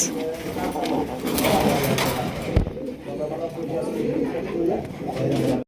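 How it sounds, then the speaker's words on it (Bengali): Black checker pigeons coo in low, rolling murmurs amid a continuous noisy background, with a person speaking over the birds. "এটা হচ্ছে ব্ল্যাক চেকার গোল্লা কবুতর"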